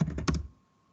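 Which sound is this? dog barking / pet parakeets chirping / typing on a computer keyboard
typing on a computer keyboard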